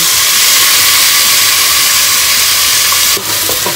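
Pork sautéing in a hot pan for Filipino pochero gives a loud, steady sizzle and hiss throughout, with a brief scrape of stirring near the end.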